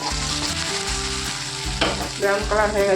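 Onions fry in a pan for a potal recipe, a steady close sizzle with scraping stirs and a brighter crackle near the end; no talking.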